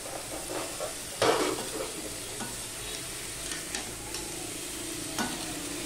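Drumstick vegetable pieces are stirred and fried in a pan for a vegetarian Bengali dish, a steady sizzle broken by several sharp scraping and clattering strokes of the spatula, close by and without speech.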